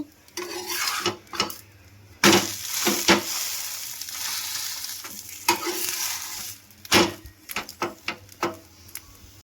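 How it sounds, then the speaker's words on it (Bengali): Egg and roti frying on a hot tawa while being flipped and turned, with intermittent scraping and clinking of a spatula against the pan over a steady low sizzle. "এবারে ভালো করে রুটিটার সঙ্গে ডিমটা উল্টে পাল্টে একটু ভেজে নেব"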